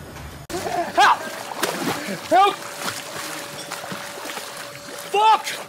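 A person splashes in a swimming pool with a few sharp splashes and sloshing water, while people's voices are heard over the water noise.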